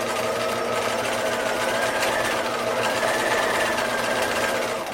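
A sewing machine stitches a pajama seam with a 1/4 inch allowance. A steady, rapid mechanical whir and chatter runs close and continuous the whole time, with no talking.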